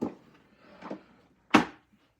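A few light mechanical clicks, then one sharp, louder briefcase-like pop as a backgammon board case latch snaps open, close up in a quiet room.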